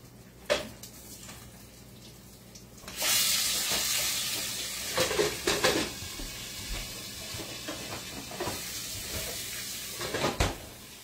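Sausage frying in a pan at home for breakfast, a steady broadband sizzle that swells loud after a few seconds and keeps hissing, broken by occasional clacks and knocks of utensils or cupboard doors.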